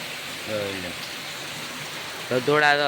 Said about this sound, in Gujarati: વરસાદ જોવો કેટલો બધો પડે તો તમે ઝૂમ કરીને બતાવું